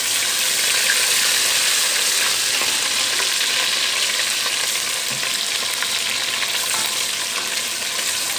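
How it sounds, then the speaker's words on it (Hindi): Steady, loud sizzling of onions, ginger and garlic frying in half a cup of hot oil, close up and continuous. "ये आधा कप ऑयल डाल के हमने इसको फ्राई करेंगे"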